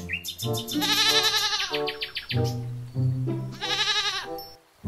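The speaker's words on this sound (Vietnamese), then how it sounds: "thì ra nó là một con dê các bạn ạ" A red goat bleats in several long, wavering cries with short pauses between them, loud and close, with no talk over the calls.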